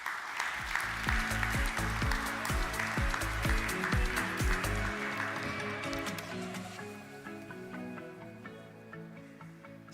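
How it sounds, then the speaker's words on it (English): An audience at a student architecture awards ceremony claps in steady, dense applause that fills the hall over a backdrop of music, the clapping fading slightly toward the end. "can we give Henry a big round of applause?"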